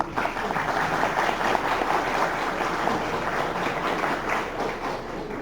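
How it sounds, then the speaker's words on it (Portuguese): An audience at an academic panel on history curriculum applauds steadily, a dense, even wash of clapping that lasts throughout without a break. "Por favor, aplausos."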